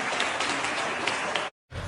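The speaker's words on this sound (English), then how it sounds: "why is the crowd clapping for this?" Sustained applause from a studio audience, a dense steady wash of many hands clapping at even loudness, breaking off abruptly into a short silence before resuming.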